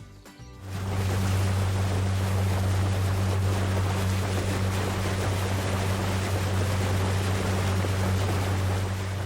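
A boat motor starts up and runs with a steady low drone on Lake Simcoe, mixed with water and wind rush, loud and continuous.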